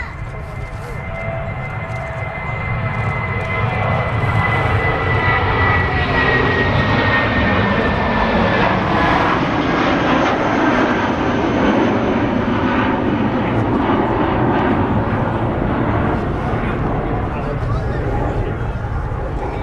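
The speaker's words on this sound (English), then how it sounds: "Really steep climb out there from the A320" British Airways Airbus A320 taking off in a steep climb at Manchester Airport: jet engine roar swelling to a loud, sustained rumble and hiss, with voices talking over it.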